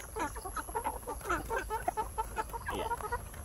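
Oriental gamefowl chickens clucking and murmuring in a continuous, close chorus of soft, overlapping calls with a steady background hum.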